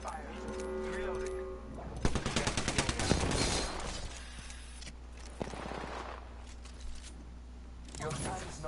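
Gunfire in Apex Legends, a rapid burst of automatic shots in the middle amid game sound effects, with a voice speaking over parts of it.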